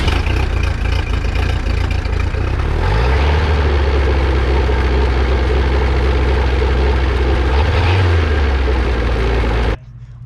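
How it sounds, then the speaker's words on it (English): An old boat outboard engine runs on flushing muffs at a steady loud idle, its low drone dipping briefly in pitch twice before cutting off abruptly near the end. "I'm gonna throw the muffs on her and I'm gonna turn that engine over and we'll see what she sounds like"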